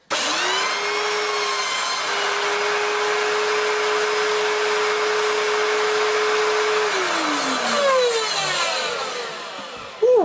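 An Electrolux Cyclone Power Z1910 self-propelled vacuum cleaner runs steadily and close up, a smooth continuous whine that holds even before its pitch slides down as it winds off near the end.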